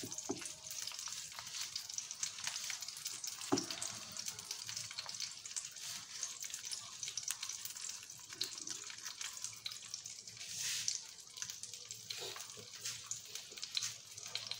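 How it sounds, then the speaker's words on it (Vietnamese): Vietnamese spring rolls (nem) fry in fat, giving a steady crackling sizzle with bright spattering and occasional louder pops, continuous and fairly close, with no talk. "Ta có thể cho thêm mỡ vào để rán nó ngon nha"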